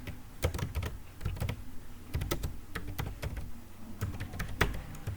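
Fingers typing on a computer keyboard while entering data in Tally accounting software, a rapid irregular run of close, crisp key clicks with brief pauses, no speech.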